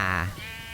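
A goat in the Roblox Pirate Ship Escape game lets out a single short, loud, wavering bleat that fades quickly, heard on its own.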